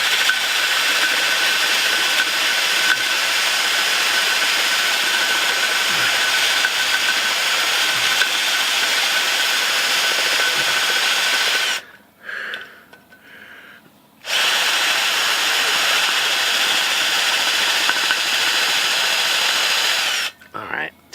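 A power drill with a worn bit grinds into steel pipe on a farm, a loud continuous high whine lasting about twelve seconds, then stopping briefly before the drilling resumes.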